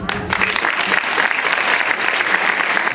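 Applause fills a school gala hall as a crowd claps loudly and continuously, a dense steady roar of hands with a few brief voices near the start.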